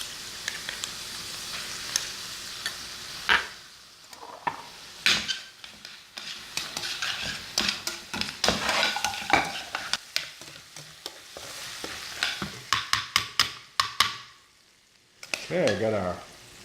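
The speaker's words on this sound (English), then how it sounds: "Stir all that together" Cooked pasta being stirred together with pesto in a pan, with sizzling and frying underneath and frequent scraping clatters of a utensil against the pan, fairly close and alone.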